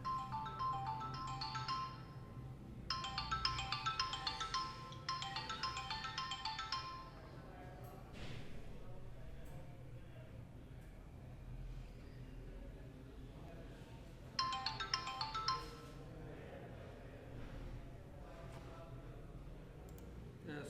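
An incoming call's phone ringtone plays in repeated melodic bursts, two close together and another after a long gap, over a low steady background hum.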